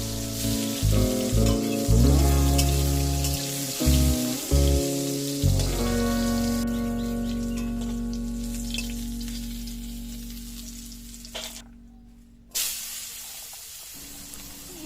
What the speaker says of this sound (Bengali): এরপর কেটে রাখা কাঁচকলাগুলিকে ভেজে নিলাম।